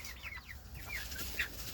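Faint chickens in a greenhouse coop cluck and chirp softly over a low background hum, a few quiet calls scattered across a brief moment.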